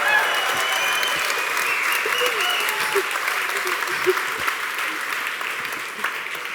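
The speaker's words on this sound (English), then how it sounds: "I'm sure everybody on the live stream is also clapping for that one" Audience at a live product presentation applauding, a steady wash of many hands clapping that holds throughout and tapers slightly near the end.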